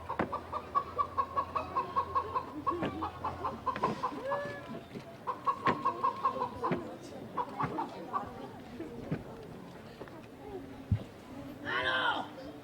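Chickens cluck in rapid bursts of close, nasal clucks, pausing and resuming, with people talking in between and a louder squawk near the end.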